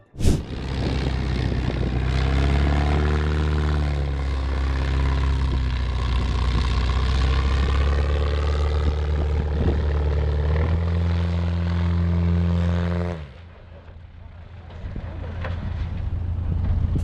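Wayne Handley's custom-built turbine-powered Raven aircraft engine runs with a loud, steady drone and layered whine, then drops abruptly to a weaker rumble as it malfunctions, with wind buffeting throughout.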